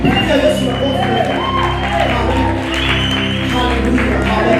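A church congregation applauds with scattered shouts and whoops, a loud, sustained burst of clapping mixed with voices and a preacher talking.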